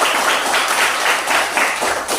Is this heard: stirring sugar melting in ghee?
no